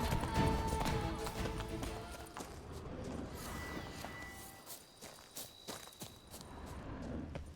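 A horse gallops in The Witcher 3 on PS5, its hooves thudding in a quick, uneven clip-clop rhythm at moderate volume alongside game ambience.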